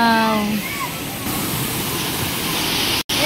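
Water gushing from a mountain spring into a swimming pool at a spring resort, a loud, constant rushing wash filling the whole clip.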